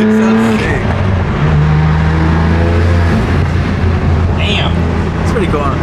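A BMW G80 M3 engine and intake drone along steadily and loudly, a continuous deep mechanical rumble with people talking over it throughout.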